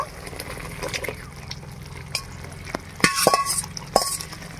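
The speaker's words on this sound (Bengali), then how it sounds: "এই যে দিয়ে দিই, নাড়াচাড়া করে দিই।" Fried chicken pieces tipped into a pan of cooking spices and stirred, giving clinks of a utensil against the pan and soft stirring scrapes with light sizzle, close and unaccompanied by talk.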